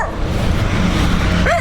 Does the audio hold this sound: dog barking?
yes